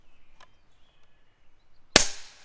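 A single sharp, loud crack from an Air Venturi Avenger .25 caliber regulated PCP air rifle, close by, with a brief decaying tail and a faint click shortly before.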